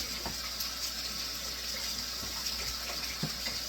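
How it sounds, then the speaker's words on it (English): Tap water running steadily while hands are washed at a kitchen sink, a continuous hiss with small splashes and no talking. "Wash hands again."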